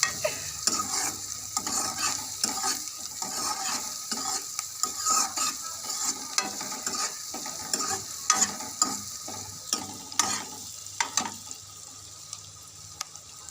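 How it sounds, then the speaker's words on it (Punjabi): Onions fry in a pan for a ridge gourd curry, a steady sizzle broken by repeated scraping stirs and clinks, with a running water tap in the background and the sizzle easing toward the end. "ਲੋ ਜੀ ਪਿਆਜ਼ ਹੁਣ ਆਪਣੇ ਭੁੱਜਣ ਲੱਗੇ"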